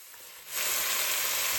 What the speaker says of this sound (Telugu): దీంట్లోనే టమాటాని కూడా వేసేసుకొని లైట్గా అట్లా కలిపేసుకోవాలి